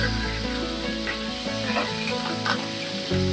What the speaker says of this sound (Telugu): ఇప్పుడు ఉల్లిపాయలు కూడా వేసేస్తున్నాను. పచ్చిమిరపకాయలు, కరివేపాకు కూడా వేసేస్తున్నానండి.